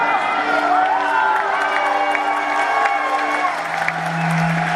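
A concert audience claps and cheers steadily, a dense crowd roar with whoops and shouting throughout.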